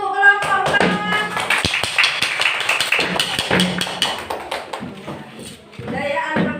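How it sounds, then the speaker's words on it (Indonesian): A classroom of students applauding group 4 after their presentation, with dense overlapping claps running steadily throughout, loud and close, with voices mixed in. "Ya, tepuk tangan untuk kelompok 4."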